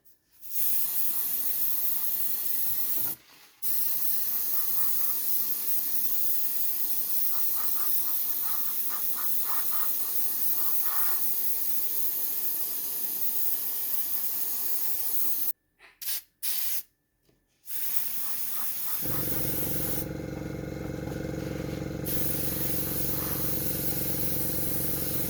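An airbrush sprays white paint over an orange base coat on an Airfix SLS Artemis model kit, a steady close hiss interrupted by short pauses, with a different lower-pitched hiss near the end.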